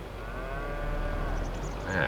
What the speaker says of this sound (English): We have cows escaping.